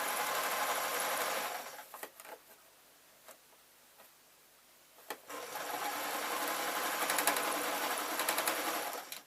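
A sewing machine stitching an old-fashioned artist's painting smock runs in a loud, steady whir, stops for a few seconds of near quiet with small clicks, then whirs again with uneven speed.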